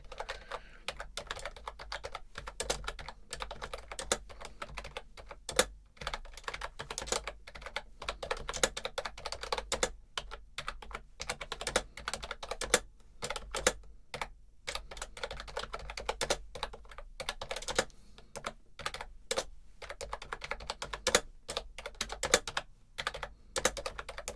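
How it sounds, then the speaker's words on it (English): Close, crisp typing on a computer keyboard while notes are taken during a medical checkup, with fast, steady clicking and brief pauses throughout and no speech. "So let me just write some notes, or type should I say."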